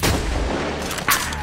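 A loud gunshot from the video game Medal of Honor Warfighter, with a heavy boom at the start and a sharper crack about a second later, over dense, noisy battlefield ambience.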